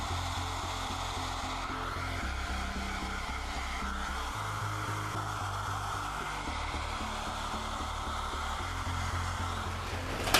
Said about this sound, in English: I am going to hit this stuff with a hairdryer